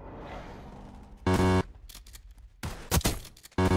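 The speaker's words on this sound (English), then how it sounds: "Damn, what a shotgun." Shotgun blasts in Black Ops 6, several loud, abrupt booms spaced irregularly over a few seconds against a quieter background of game noise.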